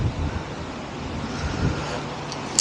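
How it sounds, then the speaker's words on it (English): Wind gusts across an open golf course during an amateur competition, a steady broad rush of air buffeting the microphone throughout, with low rumbling swells and no clear voices. "That wind just gusted up."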